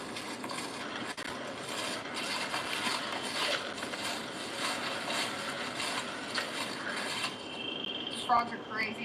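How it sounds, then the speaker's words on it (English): Frogs call loudly at night in a wooded holler, a dense, steady chorus of trilling and chirping that fills the background without a break, with a few sharper nearby calls near the end. "Frogs are crazy loud right now."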